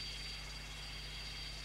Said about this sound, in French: Je me trouve actuellement dans l'hélicoptère de notre compagnie.